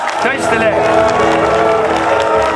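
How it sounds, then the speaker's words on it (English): Dense, steady applause from an audience in Paris after a speech by Tibetan leader Lobsang Sangay, loud and continuous, with voices and talk mixed over the clapping. "On l'applaudit"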